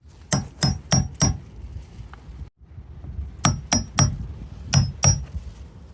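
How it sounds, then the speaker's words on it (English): A chisel hammered against a plastic guard during a fuel pump job on a 1999-2005 Pontiac Grand Am, sharp metallic taps in quick bursts of four, a short pause, then another burst, close and ringing. "So he's just chiseling away,"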